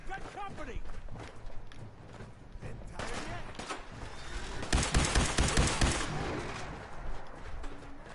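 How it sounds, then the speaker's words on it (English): A modified triple-barrel Gatling laser fires in Fallout 4, a rapid stream of zapping shots that swells into a loud burst midway. Someone talks over much of it. "The gun I'm using right now is a Gatling laser, and it has been modified to have the triple barrel instead of the quadruple."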